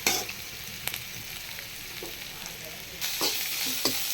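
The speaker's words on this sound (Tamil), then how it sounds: "இப்போ நல்லா வதங்கிருச்சு." Ridge gourd sizzles steadily in a hot pan, with a few soft clicks of stirring breaking through the constant frying hiss.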